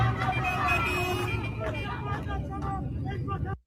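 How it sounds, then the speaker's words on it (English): Street protest traffic, with buses and cars rumbling past and a crowd murmuring, the whole scene loud and continuous with horn-like tones mixed into the noise for most of its length before it cuts off abruptly. "all the cars you hear honking, those are people who are basically in support of the demonstrators and protesters"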